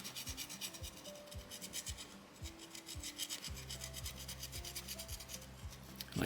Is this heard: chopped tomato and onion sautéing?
no